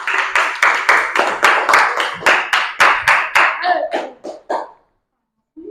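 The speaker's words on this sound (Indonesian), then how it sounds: "beri tepuk tangan dulu untuk kelompok 4" Rhythmic group hand clapping in a classroom for a student group, about a dozen sharp claps in steady succession, loud and close, slowing and fading out near the end before a brief pause.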